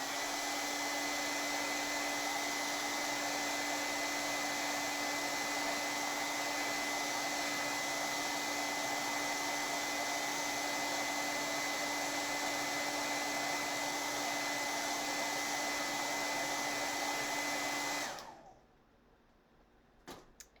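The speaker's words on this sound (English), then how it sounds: "let me blow dry my tag real quick" A hair dryer blow-drying a painted tag runs as a steady, loud whooshing drone with a constant whine for about eighteen seconds, then cuts off, leaving near silence with a couple of faint clicks.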